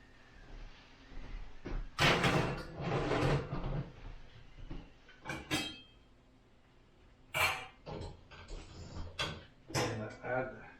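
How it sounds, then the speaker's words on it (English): An oven door clunks open and shut with metallic clinks and rattles, like a rack sliding, amid quiet kitchen handling noises while baking baguettes. "So I'm going to open the door, put the baguette in there."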